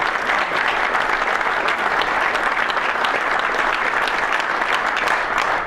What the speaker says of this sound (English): Let's have a big round of applause for all of those people